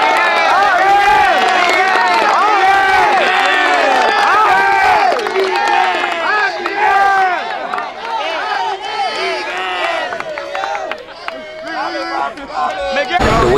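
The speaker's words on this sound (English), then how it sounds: "clap it up and give it up for my man" A high school football team in a loud group celebration, with a dense crowd of young voices cheering and hollering steadily, clapping mixed into the din, and shouts rising over the noise.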